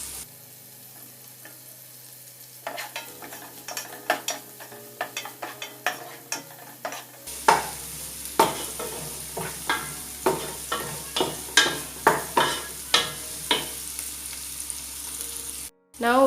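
Curry leaves sizzle loudly in hot oil with chopped onion in a pan for fried rice, with a spatula scraping and stirring in a steady rhythm of sharp clicks and scrapes; the frying intensifies halfway through as more leaves go in.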